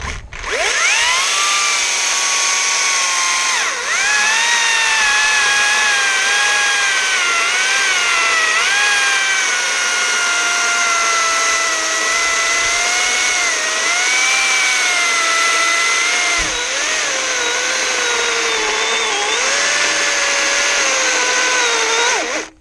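A Stihl-style 261 chainsaw fitted with a full-chisel chain cuts through wood, its loud, close, high-pitched engine whine holding steady for over twenty seconds with small pitch dips as the chain bites, and no talk.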